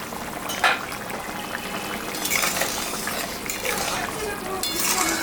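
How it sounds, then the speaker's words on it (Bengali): Fish head and potato curry gravy with silver fish bubbles in a covered pot, a dense steady boil with a brief lid clink early on and a voice talking over it. "ঢাকাটা আমি দিয়ে দিলাম দশ মিনিট ঝোলটা ফুটুক"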